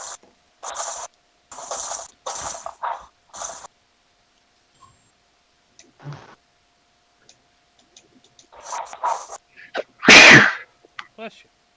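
A single sharp, loud sneeze bursts out near the end, after stretches of conversation among friends, followed by a couple of faint clicks.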